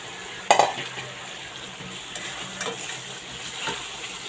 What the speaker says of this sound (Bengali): এখন তার মধ্যে আমি ভাজা ইলিশ মাছগুলি দিয়ে দিব।